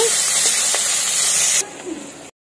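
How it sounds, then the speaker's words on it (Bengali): Chopped onion and green chilli frying in hot oil in a village-style kitchen, a steady bright sizzling hiss that runs loud and even, then drops away to a faint crackle before cutting off. "তেলের মধ্যে দিয়ে দিচ্ছি 3টা কাঁচা লঙ্কা কুচি আর পেঁয়াজ কুচি দুটো। পেঁয়াজ আর কাঁচা লঙ্কাটা ভেজে নেব।"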